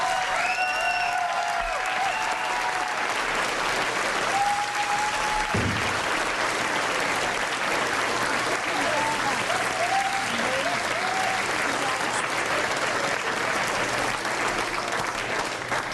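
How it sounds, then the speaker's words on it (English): A live audience gives a sustained ovation, loud steady clapping from a crowd that continues unbroken throughout, with a few voices mixed in. "Ladies and gentlemen, if you'd like to all join me in a rousing ovation for Dr."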